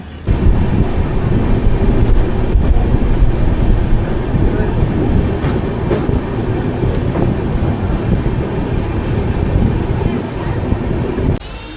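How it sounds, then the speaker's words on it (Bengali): Loud continuous rumble and clatter of the Kanchankanya Express heard from inside, steady and close throughout, near Bagdogra station. "ট্রেন এসে পৌঁছালো বাগডোগরা স্টেশন মাত্র 50 মিনিট লেটে।"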